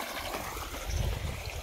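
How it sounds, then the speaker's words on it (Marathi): Water gushes steadily from a running pump motor into a farm field, a close, continuous rushing and gurgling flow that swells slightly partway through, with no talk. "मस्तपैकी आता पाणी बी आलेलं आहे, आपली झाली मोटर चालू."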